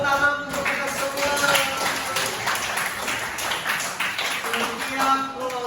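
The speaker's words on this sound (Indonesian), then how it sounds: "Tepuk tangan untuk kita semua." A classroom of students claps together in a dense, lively burst of applause that lasts several seconds, with voices mixed in under the clapping.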